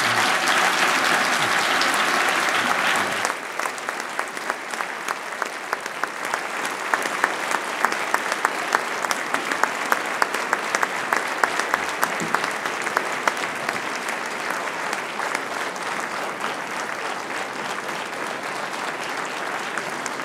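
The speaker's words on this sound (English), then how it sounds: "A round of applause, please, for Sir David Attenborough." Sustained audience applause for Sir David Attenborough at an event honouring his Crystal Award, a dense, even clapping from a large crowd that carries on for about twenty seconds with a brief shift in tone early on.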